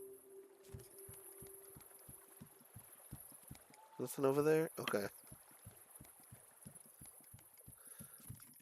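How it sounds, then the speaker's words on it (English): In the video game Porcupine, a slow, regular heartbeat-like thump repeats throughout the scene at a steady pace. Someone talks briefly over the beats midway. "Listen, it's like a heartbeat."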